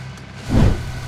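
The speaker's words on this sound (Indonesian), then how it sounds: "Ada suara mobil." A car engine in the video game PUBG swells in briefly, a low rumble that rises to a peak and fades within a second, heard alone at moderate loudness.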